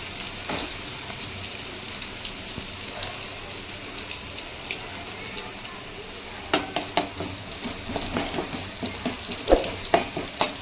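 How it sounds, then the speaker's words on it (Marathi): Tomatoes dropped onto frying onions in a pan set off a steady, moderate sizzle, followed by a run of close scraping and stirring knocks against the pan. "कांदा तळल्या गेल्यावर आता टाकते टमाटर"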